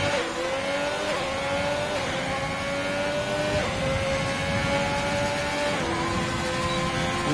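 A race car engine in a racing video game, set at a Mexico round, holds a loud, steady high-pitched whine across a lap's end, its pitch stepping down with gear shifts and no talk over it.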